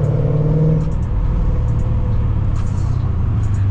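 A 540hp V8 Toyota at full throttle, a loud, close engine roar with a deep rumbling low end that holds steady, pitch stepping as it pulls through gears.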